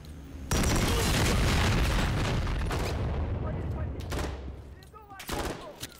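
Heavy gunfire and booming blasts from the video game Modern Warfare III, a dense, loud barrage that bursts in sharply and continues with sustained fusillade, easing slightly before renewed sharp bursts near the end.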